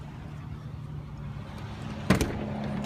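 A 2005 Ford Mustang GT V8 with Magnaflow mufflers idles with a steady, low, throaty exhaust rumble, broken by one brief sharp clunk near the end.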